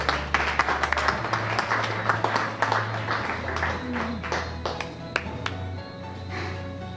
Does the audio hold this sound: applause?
yes